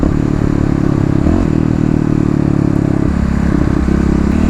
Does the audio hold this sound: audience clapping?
no